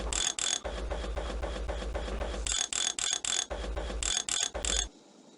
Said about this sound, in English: Use the socket wrench to bolt the wheels on and connect the handle to the front wheels